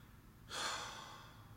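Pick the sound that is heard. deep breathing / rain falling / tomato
deep breathing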